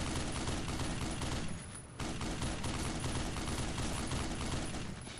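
Sustained heavy gunfire from a weapon in the video game Black Mesa, loud and continuous for the whole stretch, with a brief dip in intensity near the two-second mark before the barrage resumes.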